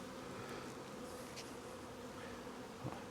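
Honey bees in an open hive during a Demaree split, a soft continuous buzzing hum held close and steady throughout, with a faint brief knock near the end.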